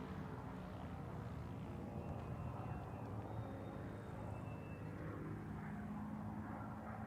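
An aerobatic airplane flying an 8-point roll at the SUN 'n FUN airshow, its engine a steady, droning roar at a distance with a faint rising and falling whine, continuous throughout, with a commentator's voice faintly beneath.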